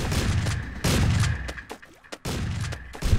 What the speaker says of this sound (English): I got shot by accident!